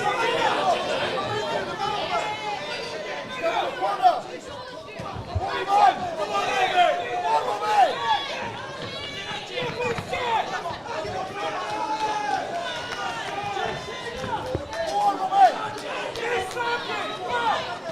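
Crowd at an amateur boxing club home show, a steady indoor hubbub of many overlapping voices and chatter with occasional shouts, sustained throughout at moderate loudness.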